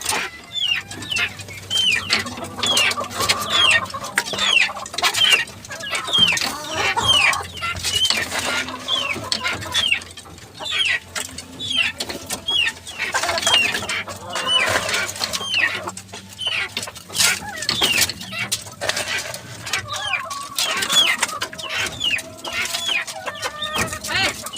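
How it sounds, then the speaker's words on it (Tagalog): Chickens cluck and chatter continuously nearby, a busy flock of hungry backyard chickens at feeding time with overlapping calls and a few louder squawks against low background noise. "Yan ang alagang manok."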